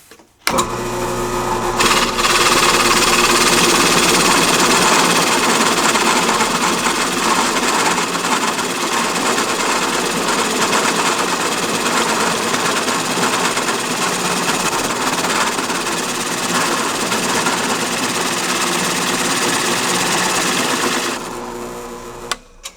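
A drill press cuts a rosette into wood with a rosette cutter, its table locked, giving a loud, steady grinding whir that runs unbroken for about twenty seconds before winding down.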